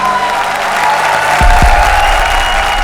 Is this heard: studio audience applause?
yes